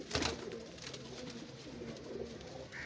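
Pigeons coo close by in soft, throaty overlapping calls that continue the whole way through, with no talk.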